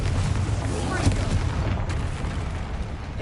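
A Confringo blasting spell explodes in Hogwarts Legacy, a loud, rumbling burst with crackling debris that swells near the start and rolls on as a dense roar through the short span.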